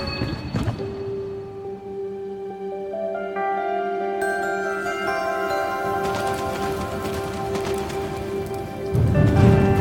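Rain patters steadily on a surface in a video game, under layered sustained musical tones, growing a little louder toward the end.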